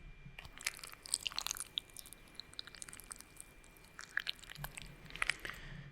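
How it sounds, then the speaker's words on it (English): Close, wet chewing of beans, with irregular crunchy, squishy bites and mouth clicks over about six seconds, quiet and with no talking. "So you can hear it's like a beans getting chewed"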